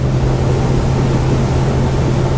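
A Ryck 28 centre console boat runs at about 30 knots, its outboard engine giving a steady, loud low drone with a constant hum beneath rushing water and wind.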